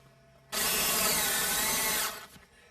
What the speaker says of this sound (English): barrier right next up to the Fibrecrete and screw right into it